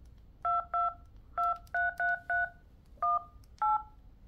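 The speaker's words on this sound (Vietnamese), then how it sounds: "Các phím bấm bình thường nhé." Keypad tones on an LG V60 T-Mobile phone: eight clear, evenly pitched beeps in short clusters with brief pauses, close and alone in a quiet room.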